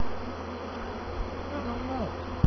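A dense, steady buzz of thousands of honey bees from a package being installed hums throughout, with a sharp knock near the end.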